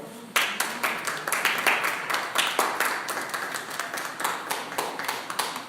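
A church congregation claps in unison, a rhythmic, steady run of hand claps lasting several seconds at moderate volume.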